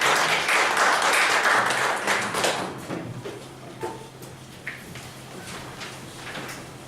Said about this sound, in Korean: 교수님 박수 맞이하겠습니다